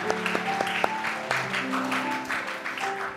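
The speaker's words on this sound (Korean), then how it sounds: "우리 박수로 축하하겠습니다." A church Sunday school graduation crowd claps for the graduating students, a dense steady patter of applause with tonal music or hum running beneath, moderately close.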